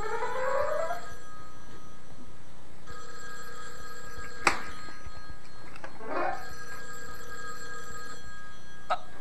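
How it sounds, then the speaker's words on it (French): An old telephone bell rings in short bursts at the start and again later, with a sharp click between, in an otherwise quiet room. "Ah, c'est le téléphone."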